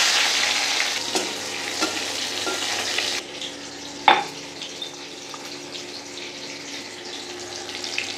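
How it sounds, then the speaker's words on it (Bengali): A small tomato hits hot fish-frying oil tempered with black cumin, sizzling loudly at first, then settling to a softer crackle with scattered pops and a scraping stir, no speech. "মাছ ভাজার তেলটাতেই দেবো একটু কালো জিরে ফোড়ন, একটা টমেটো, ছোটো দেখে একটা টমেটো দিয়েছি।"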